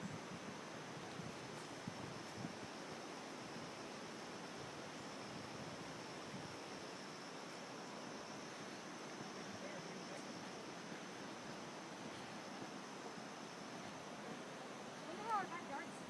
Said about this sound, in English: 30 yards of river going right across Center Street.